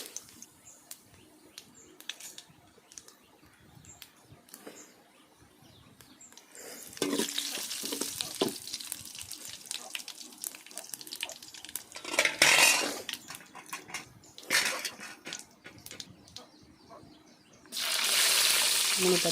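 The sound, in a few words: whole spices stirred and frying in hot oil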